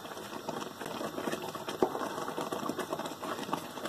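Khoya, milk reduced in a pan, bubbling and spitting as it thickens, a steady fine crackle with one sharper pop, close and moderately quiet.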